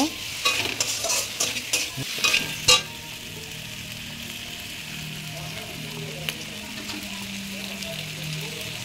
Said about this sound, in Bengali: মাংসটা দিলাম, এবার আমি ভালো করে কষিয়ে নেব।